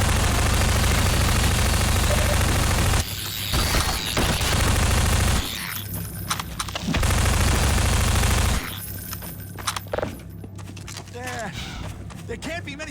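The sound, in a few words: machine gun fire in video game Half-Life 2: Episode Two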